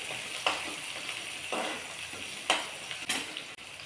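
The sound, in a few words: chopped onion frying in crackling oil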